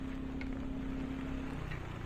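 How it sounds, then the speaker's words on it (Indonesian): Heavy downpour in Yogyakarta near the Benteng Vredenburg museum during a motorcycle tour, a dense, steady close-up hiss of rain that holds constant throughout, with a low steady hum underneath and no voices. "Hujan banget ini, deras banget."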